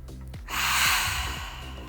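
A single deep breath during a vinyasa yoga flow: a brief catch, then a long, soft, airy rush of breath lasting over a second, close and alone.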